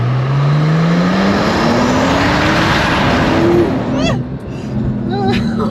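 An 800-horsepower Porsche GT Street R engine roars as it accelerates in Sport Plus mode, pitch climbing steadily, then eases off as people talk excitedly over it.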